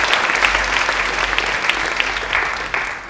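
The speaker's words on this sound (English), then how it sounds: "round of applause for your parents" A school event audience gives the parents a round of applause: dense, sustained clapping from a large crowd, loud and even throughout, with no talking over it.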